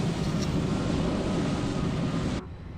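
A loud airplane in a flight simulator game roars steadily as a broad, constant drone, then drops to a lower hum near the end, with no talk.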